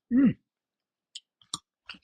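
A few crisp, sharp crunches of raw carrot being chewed come close up after a brief vocal sound, with quiet pauses between the bites.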